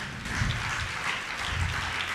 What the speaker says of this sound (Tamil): கைத்தட்டி ஆண்டவரை மகிமைப்படுத்துங்க